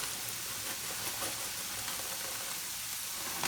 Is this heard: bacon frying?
yes